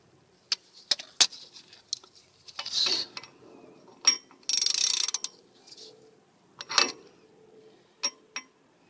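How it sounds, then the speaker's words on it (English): Close, sharp ratcheting clicks and short metallic bursts come in irregular spurts between quiet pauses as a ratchet works a 10 millimeter bolt on the rear brakes of a 2004 Volvo XC90. "this 10 millimeter bolt you want to take off"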